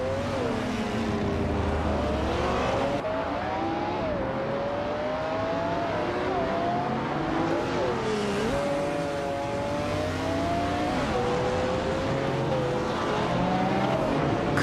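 A Bugatti Veyron race car engine in a racing video game revs and climbs through gears, whining pitches rising and dropping repeatedly, steady and loud with faint tire squeal and no talk.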